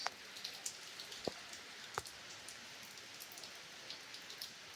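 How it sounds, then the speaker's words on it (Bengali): Rain falling during an afternoon shower, heard as a soft, steady hiss with scattered nearby drips and occasional louder drop taps, fairly quiet and without voices. "দেখি কতক্ষণ থাকে বৃষ্টিটা।"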